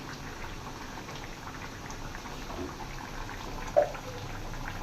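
Chicken curry bubbling steadily in a pot on the stove, a faint, continuous simmer of small pops and gurgles with one brief louder blip near the end and no talking.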